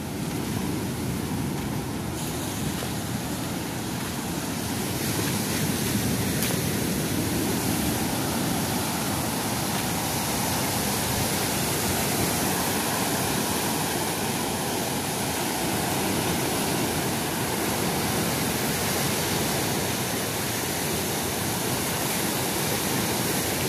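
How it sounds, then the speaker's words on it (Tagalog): Steady roar of sea waves breaking on a seashore, a dense continuous wash of surf that stays loud and even, with no voices. "dito muna tayo sa tabing dagat"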